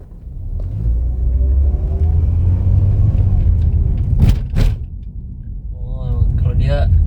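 A 2019 Mitsubishi Xpander Exceed picking up speed, with a steady low engine and road rumble inside the cabin, a couple of sharp clicks, and a voice speaking near the end.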